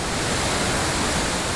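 A wilderness waterfall pouring into a pool, a dense, steady roar of rushing water, loud and unbroken, with no other sound over it.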